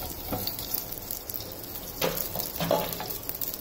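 Leftover-rice farre tossed into hot oil in a pan, a steady soft sizzle with a few louder crackling pops, close and without talk.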